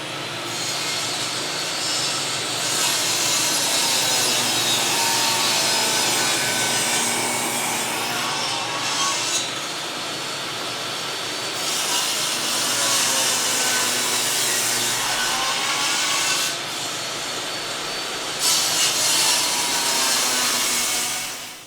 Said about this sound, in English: time to fire up the old table saw, cut up some of these logs, make some planks